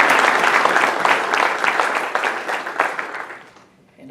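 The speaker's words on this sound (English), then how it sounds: "So a big round of applause to all three of you" Audience applause for a panel of three at a forum event, a dense, steady wash of many hands clapping at full strength that thins and fades toward the end.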